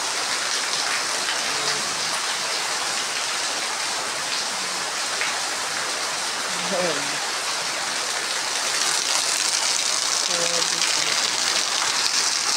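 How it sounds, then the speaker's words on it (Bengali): Heavy rain drums on a tin roof in a steady, loud hiss that stays dense throughout, while someone speaks briefly in the background. "অনেকক্ষণ ধরে বৃষ্টি হচ্ছে, বৃষ্টি হতেছে"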